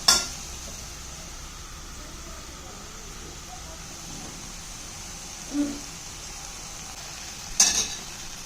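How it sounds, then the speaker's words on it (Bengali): Ground spices for a soybean korma frying in a pan, a faint steady sizzle running throughout with occasional soft utensil clinks and scrapes near the start, middle and end. "গুঁড়ো মশলাগুলো ভাজা হয়ে গেছে।"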